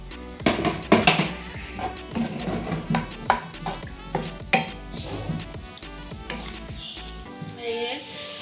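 Onions sizzle and fry in hot oil in a pot for chicken nihari, a steady crackling hiss punctuated by loud clanks and scrapes of a spoon against the metal, close and without talk.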